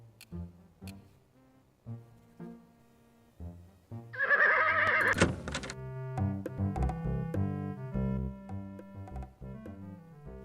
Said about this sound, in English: Sheriff, do you aim to do anything about the flatulent horses out there?